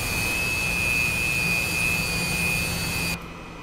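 A Su-27 jet engine idling at taxi speed in the DCS flight simulator, a steady loud whine with a constant high tone over a low rumble, cutting down abruptly near the end, with no talking.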